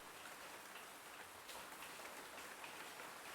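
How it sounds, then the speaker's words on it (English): Steady rain from the Butterfly Soup 2 video game, an even hiss of falling drops that stays constant and soft, with no voices over it. "because I like the sound of rain."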